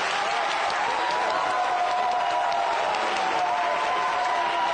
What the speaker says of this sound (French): Bikongo, qui doit applaudir?